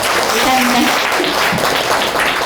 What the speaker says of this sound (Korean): 우리 수행자님에게 따뜻한 박수 한번 부탁드립니다